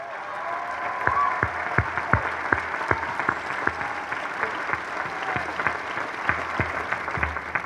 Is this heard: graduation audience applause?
yes